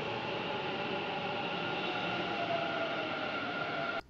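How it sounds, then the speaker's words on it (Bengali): A metro train on the purple line pulls into a station, a steady loud rumble and rolling wheel noise that holds throughout and cuts off near the end. "পার্পল লাইনে ট্রেন আসলো"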